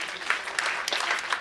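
A Women's Day celebration audience clapping, a short spell of scattered, moderately faint applause with individual claps standing out.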